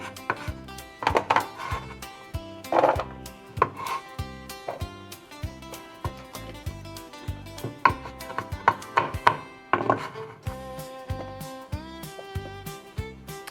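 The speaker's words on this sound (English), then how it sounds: "you're just gonna chop them into nice chunky pieces" Yellow, green and red peppers are chopped into chunky pieces on a board, a steady run of close knife taps over background music.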